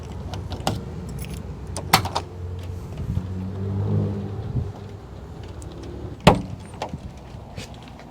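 The rear barn doors of a 1990 Chevrolet Suburban 454 are unlatched and swung open, with metallic clicks, a jangle of keys and a sharp clunk of the latch near the end.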